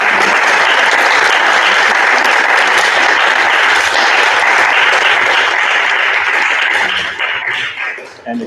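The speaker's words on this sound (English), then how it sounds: "Let's give a round of applause." An audience at a panel discussion applauds, dense and loud sustained clapping from many hands that continues evenly before tapering off at the end.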